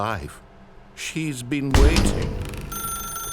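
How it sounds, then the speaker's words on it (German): In the video game The Stanley Parable, an electronic telephone rings with steady repeated tones that start near the end, after a burst of voices and a clatter. "Telefon."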